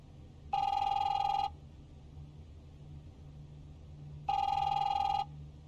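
Telephone ringing in The Wolf Among Us video game: two separate electronic rings, each lasting about a second, with a long pause between them over a low, steady background rumble.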